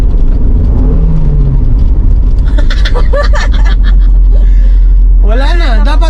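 A car engine drones steadily under load while a manual car climbs uphill, a loud continuous hum close in the cabin, with people talking over it throughout.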